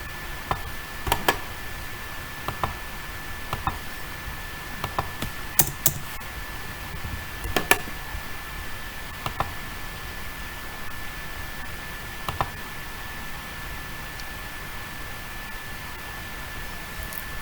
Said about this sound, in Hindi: तो इसे भी हम टाइप कर लेते हैं।